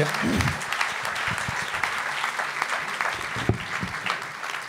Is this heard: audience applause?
yes